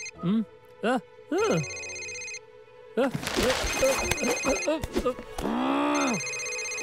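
A mobile phone rings with repeated electronic tonal chirps, three short bursts followed by a sustained melodic ring, loud and close. Voices talk over the later part of the ringing.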